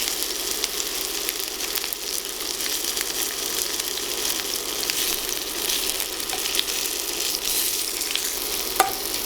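Chicken tangdi kebab searing in a hot pan, a dense, even sizzle held close and loud, with a couple of small clicks near the end and no voices.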